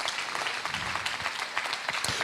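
A church congregation applauds, dense continuous clapping from many hands filling the room, steady and moderately loud.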